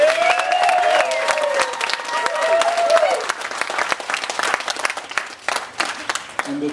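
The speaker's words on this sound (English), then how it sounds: "So maybe that's worth a round of applause to all the friends here." Wedding reception guests break into applause, a dense round of clapping mixed with cheers and chatter, while a voice rises and falls over it before the clapping thins into scattered claps.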